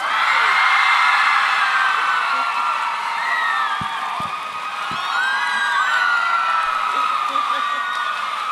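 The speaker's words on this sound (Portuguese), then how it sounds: "Palmas pra Holly" A crowd at the 2023 Bienal do Livro book fair cheers and applauds for author Holly Black, a loud, dense roar of whoops and shouts that rises and falls steadily throughout, with a few scattered claps.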